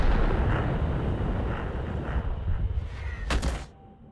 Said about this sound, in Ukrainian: Ну, Артилерія зрозуміла, вона не на гірці, вона просто через гірку перекидувала